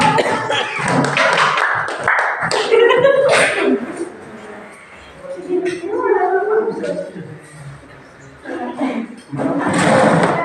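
A classroom of students claps their hands together, the sustained clatter rising and falling across several seconds, mixed with children's voices and chatter around it.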